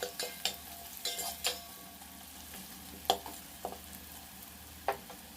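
Carrots frying with turmeric in a pan while being stirred: a soft, low sizzle with scattered sharp scrapes and clicks of the spoon against the pan, near and fairly quiet.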